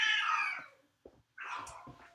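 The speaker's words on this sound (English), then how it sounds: "cat fight." Cats in the game Songbringer fight with two loud yowling, screeching caterwauls separated by a short gap with a faint thump, close and harsh.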